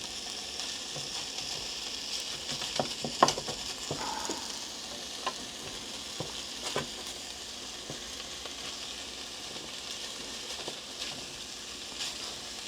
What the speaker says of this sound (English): She's sizzling.